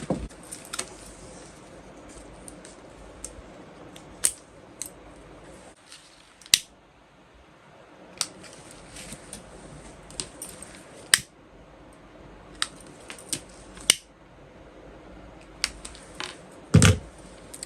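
Scissors snipping through zipper tape while sewing a bucket bag, sharp isolated cuts spaced every second or two over a quiet, low room hum, with a louder clatter near the end.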